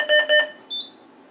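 A Simplex 4010ES fire alarm panel in carbon monoxide mode gives two loud electronic tone pulses, a short gap, then a third, clear and alone.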